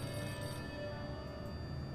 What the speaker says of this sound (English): Where's that phone ringing coming from?